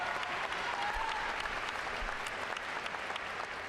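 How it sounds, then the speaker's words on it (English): A university commencement crowd at the University of Alaska Fairbanks, 2015, claps in a steady, full round of applause that fills all four seconds without a break. "You can clap, that's good."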